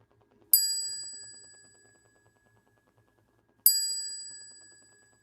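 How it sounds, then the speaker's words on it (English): A chime rung to open a Sunday church service strikes twice, about three seconds apart, each a clear bright ding that rings on and fades slowly in an otherwise quiet room. "At the sound of the chime, our service begins."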